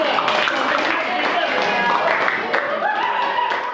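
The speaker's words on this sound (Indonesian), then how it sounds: "tepuk tangan buat kelompok 3" Students in a classroom clap for a group that has just presented, a continuous round of applause heard together with voices talking over it.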